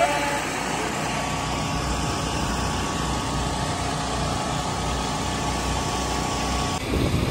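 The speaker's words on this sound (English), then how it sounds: "Ang ingay ng ano generator." A loud generator runs steadily at a food stand, a constant close engine drone that fills the whole stretch with no pauses and briefly shifts near the end.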